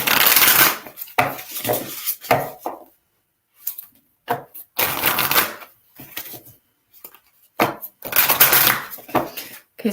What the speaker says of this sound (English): your cards are shuffling really kind of stiff.